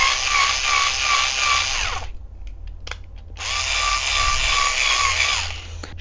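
A Promo Blister cordless screwdriver runs in two loud, close bursts of high-pitched motor whine, each roughly two seconds long, separated by a brief pause with faint handling clicks.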